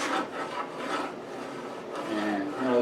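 Steady rasping and rubbing as a wooden guitar neck with a scarf joint is sanded and shaped by hand, continuous strokes close up with no talking.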